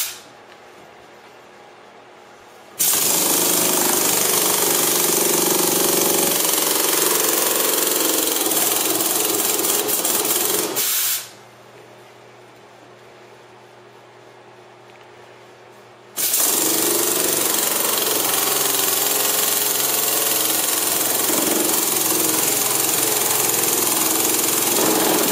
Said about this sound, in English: It's a rotary valve type engine.